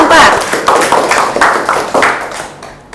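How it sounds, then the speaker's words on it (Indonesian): A classroom of students claps for a presenting group, loud rhythmic claps in a regular beat about twice a second that fade toward the end, with voices in the background. "Berikan tepuk tangan untuk kelompok 4."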